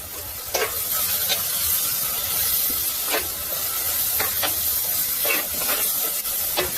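Softened tomatoes and slit green chillies fry in a pan for green chilli chicken, producing a dense, close sizzling hiss with a handful of sharp stirring scrapes spaced through it.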